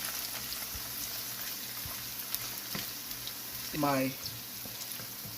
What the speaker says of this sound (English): I'm going to saute my vegetables in this pan.